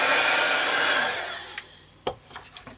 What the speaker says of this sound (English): let me just give a blast with the heat gun